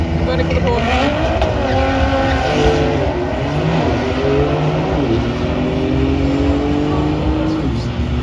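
Porsche Turbo S accelerating at a European car show, a loud continuous engine with rising and falling pitch sweeps and some tire noise over crowd ambience throughout.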